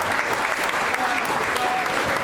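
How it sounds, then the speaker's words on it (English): Audience applause for Scout Troop 261 at a Labor Day Collin County GOP event, a steady, dense wash of clapping from a crowd that holds evenly throughout. "Round of applause for Scout Troop 261."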